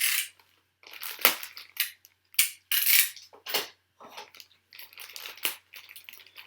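Plastic parts bag from a Tamiya TT-01 Type E truck kit being torn open and handled, a run of close, sharp crinkling and rustling bursts separated by short pauses.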